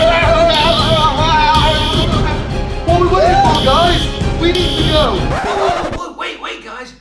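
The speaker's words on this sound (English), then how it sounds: "Everybody, it's the fire alarm!" A school fire alarm rings in repeated bursts with short gaps, loud and close, while a crowd of students talk and shout over it before the sound cuts off near the end.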